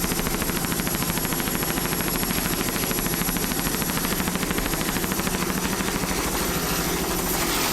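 A 26-foot Checkmate powerboat with a single 500 hp Mercury inboard engine roars past at a Key West racing championship, a loud continuous rapid throbbing drone that fills the whole stretch with no pause.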